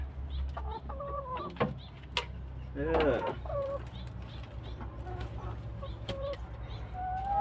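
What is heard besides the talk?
chickens clucking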